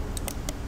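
Three quick, light clicks of a computer mouse triple-clicking on a line, close and faint with no talk.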